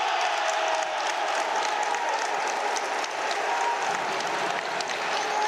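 Indoor arena crowd at a futsal match applauding and cheering after a goal, a dense, steady wash of clapping that stays loud for several seconds with no clear speech.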